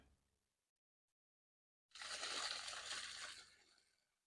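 Water is poured into a planting hole around a hydrangea. After near silence, a steady splashing gush starts at about two seconds, close and moderately loud, and tapers off toward the end.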